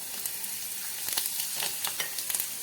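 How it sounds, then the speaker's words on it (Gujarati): Cumin, garlic and broken dried red chilies sizzle in hot oil for a tomato chutney, a continuous close crackle with sharp pops and spatters scattered throughout, no talking. "બધી વસ્તુને સારી રીતે સાતળી લેશું।"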